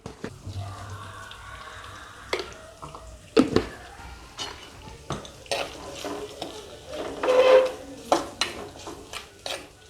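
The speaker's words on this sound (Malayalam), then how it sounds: "ഇതിലേക്ക് ആവശ്യത്തിന് ഉപ്പും കൂടി ചേർത്ത് നന്നായിട്ട് വഴറ്റിയെടുക്കുക." Shallots with salt sauté in a pan for a Kerala-style river fish curry, with a soft sizzle under intermittent scraping and clinking of a spoon against the pan, close and moderate, no talk.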